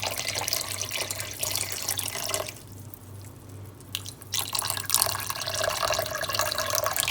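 Roughly a cup of water pours from a vessel onto half a kilo of sugar in a pan for balushahi syrup, a steady close splashing and trickling that dips briefly midway, with no talk.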